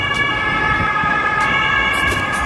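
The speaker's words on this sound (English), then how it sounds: "There's a few police cars." Several police car sirens wail steadily on a Berlin street with roadworks, a continuous stacked siren tone over road traffic noise, fairly close and loud throughout, with no talking.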